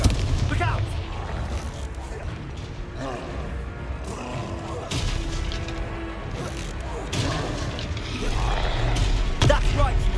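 Confringo fire spells exploding in the Hogwarts Legacy video game, a dense stream of booms, crashes and impacts under game music, with characters shouting over the combat.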